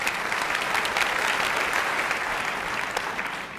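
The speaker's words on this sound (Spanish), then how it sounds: "Un aplauso para Doxar Brown." Audience applause at a talent show, a steady dense clapping that fills the whole stretch evenly, close and loud with no talk over it.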